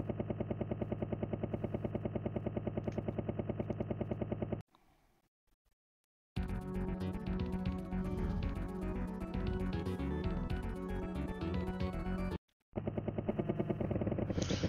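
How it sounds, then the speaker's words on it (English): A helicopter from the arcade beat-'em-up Final Fight whirs in steady loud bursts alongside game music and effects, breaking off in brief silences before resuming. "Ooh, helicopter."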